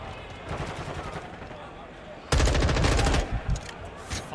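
Rapid automatic fire from an M16 with a muzzle break in a Call of Duty match erupts as one loud, sustained burst lasting about a second. Talk and game noise run before and after it.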